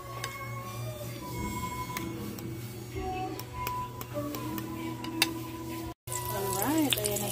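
Eggplant omelette (tortang talong) sizzles steadily in a frying pan, a constant close crackle with light clinks and a brief dropout near the end, while a person talks over it.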